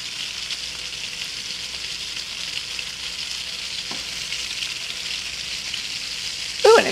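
Chicken frying in butter with seasonings in a pan, a steady soft sizzle with a light tap near the middle and a louder clatter and hiss as it is flipped at the end.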